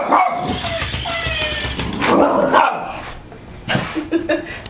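Vinny the dog barks and yips at a bag, several sharp, loud, close barks mixed with whining, while a person talks in the background.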